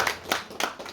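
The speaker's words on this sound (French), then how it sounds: "On peut les applaudir encore une fois." Brief burst of audience applause at a French literary conference for young authors, a few sharp, uneven hand claps lasting under a second.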